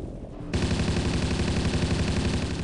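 A machine gun fires on a Ju-88 in the Battlefield 1942 video game, opening after a short pause into a steady, rapid rattling burst that runs loud and unbroken to the end.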